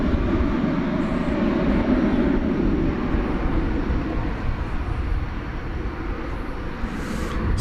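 An Airbus A321neo arriving at DFW Airport at night, a broad continuous engine roar that stays loud and steady, fading slightly toward the end, with no voices.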